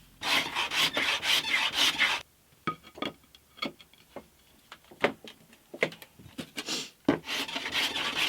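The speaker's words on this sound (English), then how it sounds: "I'm just going to have to keep sanding until I've hit the middle bit" Sandpaper rubs back and forth over a wooden radius hump for an acoustic guitar, a dense rasping burst at the start, then sparser scratchy strokes, and steady rubbing again at the end, close and fairly quiet.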